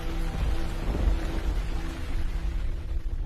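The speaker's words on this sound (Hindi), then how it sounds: "बारिश की बूंदें जोर जोर से टपक रही थीं और आसमान गरज रहा था" Heavy night rain pours steadily under a low rumble of thunder, dense and close, with no voices.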